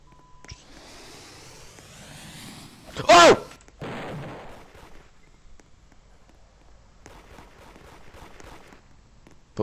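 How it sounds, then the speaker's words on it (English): A sharp, loud gunshot bursts out amid low background rumble, followed by scattered quieter bangs and shuffling in the Roblox game Da Hood. "I hear gunshots over there."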